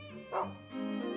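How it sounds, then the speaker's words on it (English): A dog in the horror game Rule of Rose gives a couple of short, close barks or yips over a steady low musical drone. "Come along, dog."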